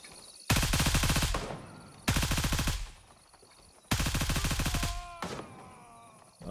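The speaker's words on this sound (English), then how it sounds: "Oh, someone's shooting at me." Bursts of automatic gunfire in a first-person shooter video game: three loud sustained volleys of rapid rounds with short pauses between them, followed by a quieter trailing shot at the end.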